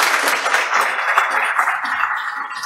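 Steady applause from an audience, a dense wash of clapping that holds at an even level throughout.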